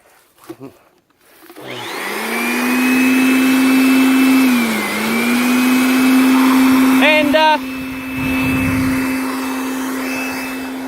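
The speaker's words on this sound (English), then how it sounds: "So I'm going to switch on the blower. It might get a little bit noisy." An electric blower on a charcoal kiln switches on after a few clicks and settles into a loud, steady motor drone that dips briefly in pitch, with a short burst of rattling midway.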